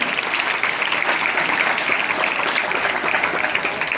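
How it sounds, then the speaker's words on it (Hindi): Applause for the winning group at a school cleanliness quiz event, a steady crowd of hands clapping evenly and fairly loudly throughout. "जोरदार ताली उनके लिए।"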